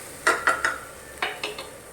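A spoon scrapes and clinks against a pan while stirring thick tomato chutney, about six quick strokes in two brief clusters, close and fairly soft over a faint sizzle.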